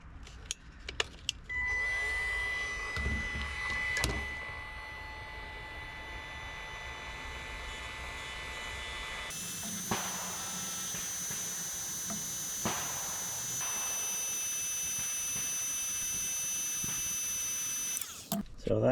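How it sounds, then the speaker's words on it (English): A DeWalt cordless heat gun runs steadily for most of the stretch, shrinking heat-shrink tubing over a wire connection during a sawmill repair, its fan hum continuous, with a few clicks and handling knocks over it. "hit it with a heat gun. It's the DeWalt cordless heat gun."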